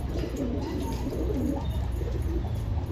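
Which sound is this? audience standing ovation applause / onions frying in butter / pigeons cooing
pigeons cooing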